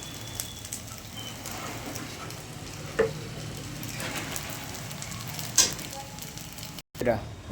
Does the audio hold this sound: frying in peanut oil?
yes